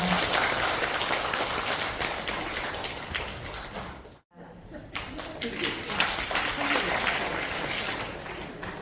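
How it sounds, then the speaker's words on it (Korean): A large audience claps during a Christian women's national prayer service in an auditorium, dense steady applause filling the space, briefly dropping out midway before resuming just as full. "다시 한번 큰 박수 부탁드리겠습니다."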